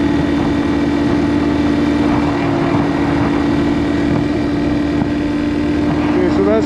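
A 2022 Bashan Brozz 250 Recon dual sport motorcycle hums steadily at cruising speed under heavy wind rush, with a rider's voice talking over the constant engine drone.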